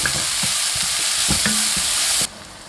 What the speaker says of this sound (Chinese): 油热先把洋葱倒进去翻炒，把洋葱炒软炒出香味